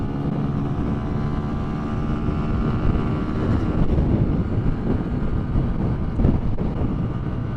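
A Keeway motorcycle engine drones steadily in fifth gear at about 50 mph, heavy wind rush buffeting the microphone throughout, with no one speaking.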